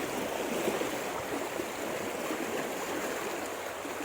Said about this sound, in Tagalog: Ang bilis ng tubig eh.